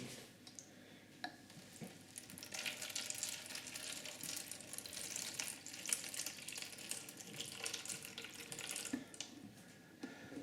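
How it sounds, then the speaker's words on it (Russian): Water is poured onto peat tablets set out for geranium cuttings, a quiet, steady splashing trickle with soft gurgles that grows a little stronger after the first few seconds. "Теперь мы сюда заливаем водой."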